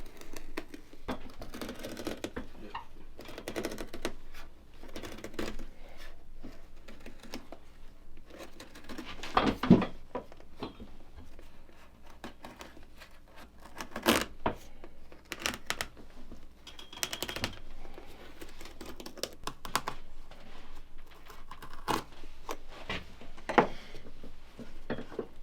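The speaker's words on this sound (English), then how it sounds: "That's why we like to use this knife instead of like a razor knife" A knife trimming the sole of an Allen Edmonds Normandy boot makes repeated close scraping and cutting ticks in an irregular pattern throughout, with faint background noise.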